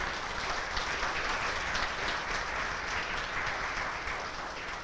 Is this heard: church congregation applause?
yes